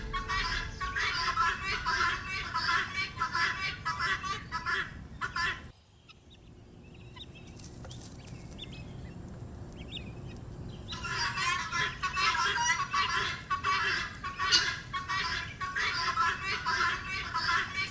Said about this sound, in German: Ein Schwarm Perlhühner scharrt und zwitschert im Gebüsch